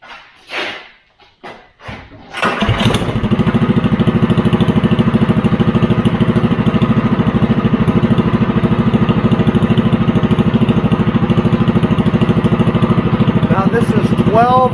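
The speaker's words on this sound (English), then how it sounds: "You'll notice how much the engine's bouncing and rattling." A Predator 212 small engine fitted with a 12-disc muffler cranks after a few pulls at about two seconds, then settles into a loud, steady, slightly rattly running drone.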